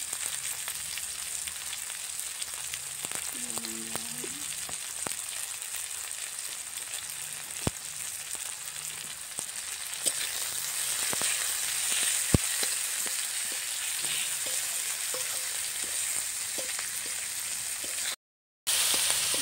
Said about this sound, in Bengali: কারি পাতা দেওয়া হয়েছে